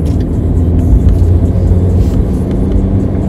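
A Fiat Panda driving on a road on Madeira, a loud steady engine and road rumble heard from inside the car, with no talk.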